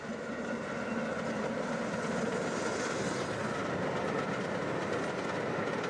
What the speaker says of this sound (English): What's the name of this 9F? Doesn't that sound even more amazing, Electro?